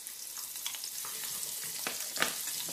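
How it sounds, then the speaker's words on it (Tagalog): Ginger sautéing in hot oil for Filipino arroz caldo gives a steady, close crackling sizzle with a few sharper spatters and stirring scrapes. "Igisa natin yung luya muna."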